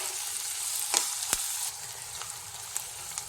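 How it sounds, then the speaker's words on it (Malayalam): Three chopped onions sautéing with salt in a pan for a chicken curry, a continuous soft sizzle broken by occasional sharp clicks and scrapes of stirring, close and moderately quiet. "ഇതിലേക്ക് ഒരു 3 സവാള അരിഞ്ഞതിട്ട് കൊടുക്കാം. ഇനി ഇത് നല്ലതുപോലെ ഒന്ന് വഴറ്റി കൊടുക്കാം."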